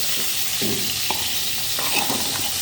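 Slices of pointed gourd (potol) fry in oil in a pan, giving a steady soft sizzle with a few light stirring scrapes of the utensil against the pan.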